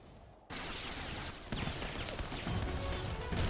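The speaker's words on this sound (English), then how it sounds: "You're only shooting at me!" Loud gunfire and crashing impacts erupt suddenly during an ambush in Final Fantasy XIV, a dense, continuous barrage of shots that swells after a brief quiet start and keeps pounding for several seconds.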